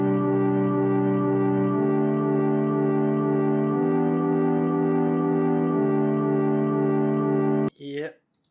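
A relaxed electronic music drop built from ocarina samples plays as steady, layered sustained tones, with the chord shifting every couple of seconds. It cuts off near the end, where a brief voice is heard.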